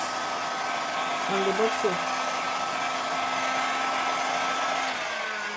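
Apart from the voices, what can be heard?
heat blower shrinking plastic wrap onto bottle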